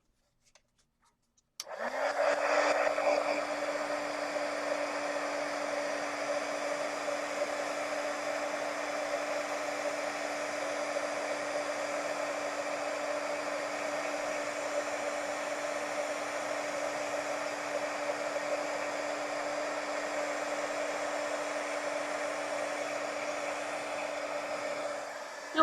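An electric heat tool blows a steady, loud whirring hiss for over twenty seconds, used to melt embossing powder, starting after a brief quiet moment and running without interruption or talk.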